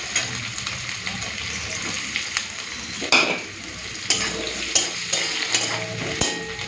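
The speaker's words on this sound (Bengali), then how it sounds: "একটুখানি পেঁয়াজ কুচি দিয়ে দিচ্ছি।" Chopped onion and crushed garlic sizzle steadily in hot oil in a pan, with a spatula scraping and clinking against the metal at irregular intervals.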